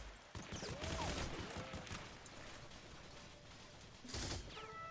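Anti-aircraft gun in the game H&G used like a machine gun, heard as rapid bursts of distant rattling gunfire with a louder burst near the end, over faint mechanical clicks and game sounds, with no talk.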